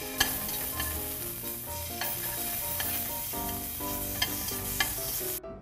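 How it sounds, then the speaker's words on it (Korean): Shiitake mushrooms stir-fried in oil in a pan, a close sizzle punctuated by repeated scraping and tapping of a utensil against the pan before it cuts off abruptly. "표고버섯을 볶아줍니다."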